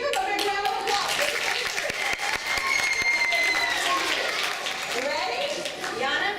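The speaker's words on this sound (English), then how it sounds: "Give them a big round of applause." An audience claps and applauds steadily and densely throughout, loud and close, with a few voices and cheers mixed into the crowd noise.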